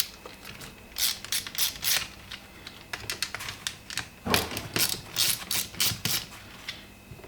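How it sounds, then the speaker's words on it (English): Screws being undone on a TRD car gaiter boot trim ring, heard as bursts of light close clicking and ratcheting in uneven clusters, quiet and with no talk. "Now on the reverse, you can probably see 4 screws there, just undo those."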